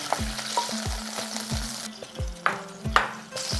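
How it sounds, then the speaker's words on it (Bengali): Almonds frying in hot ghee in a pan, a steady sizzle broken by a series of short stirring scrapes and clicks at a regular, fairly quick rhythm, close and moderately loud with no talking. "এরপরে সামান্য একটু আমন্ড এখানে ভেজে নেব।"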